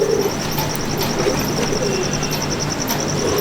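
Black pigeon cooing in a home loft, a series of soft repeated low coos over light background noise, close by and with no talking.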